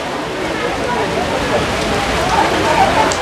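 Heavy rain pours down steadily on the way to Vaishno Devi during a storm, a dense, loud, unbroken hiss of drops hitting surfaces nearby, with nothing else standing out.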